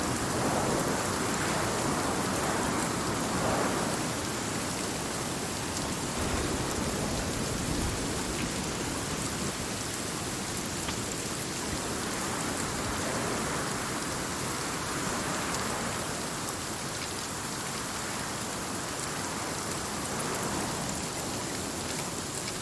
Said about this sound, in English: she curled up for a nap, turned on the rain noise